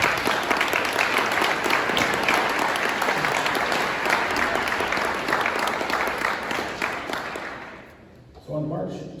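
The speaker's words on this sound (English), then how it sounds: "Let's give them a round of applause" Loud, dense audience applause for two sheriffs, sustained for about eight seconds before tapering off, then a voice begins speaking.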